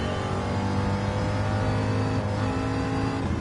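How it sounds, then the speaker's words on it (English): A V8 stock car engine in Gran Turismo 7 holds a steady, buzzing rev with layered harmonic tones, loud and continuous, and no voices. "give a good sound of the V8 engine"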